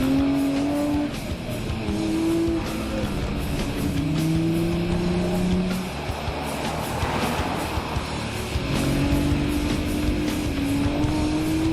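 Several Nissan R34 GTR Skyline cars on a charity cruise in Penrith, New South Wales pass by one after another, engines droning and rising in pitch as they accelerate through the gears, with steady road and wind noise throughout.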